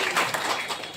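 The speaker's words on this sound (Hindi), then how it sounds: "ऐसे सरदार जी मालवीय का भी ताली बजाकर अभिवादन" An audience applauds to greet an official at a government event in Mhow handing out assistive devices to senior citizens, giving a brief, steady patter of many hands clapping together.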